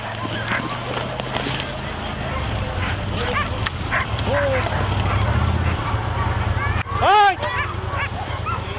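Sled dogs bark and yip in short bursts amid a busy, noisy outdoor scene with a steady low rumble, one sharp bark standing out near the end.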